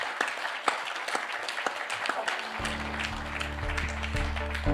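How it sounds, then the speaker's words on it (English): Forum audience applauding the panelists at an economic cooperation and financial stability conference, a steady wash of clapping that carries on while a low sustained tone and some background murmur enter partway through. "Please, let's extend a round of applause to our panelists."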